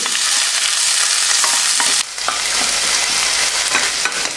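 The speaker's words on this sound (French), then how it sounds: "un petit peu d'huile d'olive, on va faire revenir gentiment les oignons" Loud, steady sizzling of onions frying in olive oil in a pan, with occasional stirring scrapes and crackles, close up and continuous.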